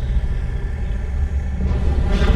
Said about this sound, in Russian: Ой, извержение или что это?